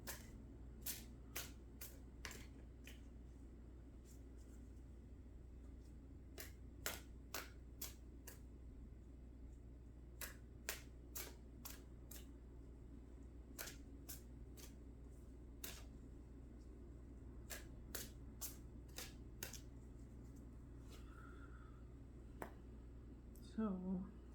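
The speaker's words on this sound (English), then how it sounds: "what a clumsy shuffle" Sharp, quick clicks and riffles of tarot cards being shuffled clumsily, coming in short uneven bursts over a quiet background hum, close by and fairly faint.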